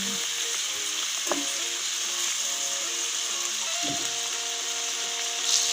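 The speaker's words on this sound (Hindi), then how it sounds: "इसे अच्छे तरीके से भून लेंगे।" Chicken pieces fry in very hot oil with a steady, close sizzle and hiss, broken by a few sharp knocks and scraping stirs against the pan.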